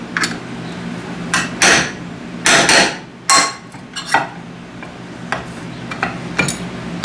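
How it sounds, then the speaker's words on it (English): Sharp metallic strikes of a hammer on a punch, knocking out holes while installing an outdoor wall light, ring out in irregular bursts, some in quick pairs, loud and close. "we're just gonna use a punch and a hammer. Knock them out."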